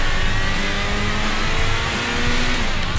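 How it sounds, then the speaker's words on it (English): Jaguar E-Type race car engine in Sega GT 2002, a steady loud mid-pitched drone with shifting revs as the car downshifts early, continuous throughout without speech. "Downshifting early."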